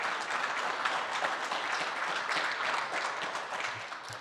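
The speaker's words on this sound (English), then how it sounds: "Yes, please give them a round of applause." Applause for a reunion committee at a barristers' brunch, a steady patter of many hands clapping throughout at moderate volume, fading slightly toward the end.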